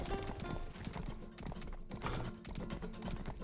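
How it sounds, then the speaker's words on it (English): Horse hooves in the video game Rustler clatter in a rapid, continuous clip-clop at a gallop, fairly close, mixed with dense background game sound. "we want our old horse back, the Charger."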